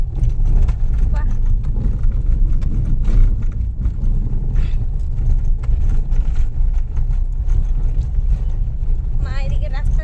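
A car driving along a rural road, a loud steady engine rumble and road roar filling the whole stretch, with voices talking over it throughout.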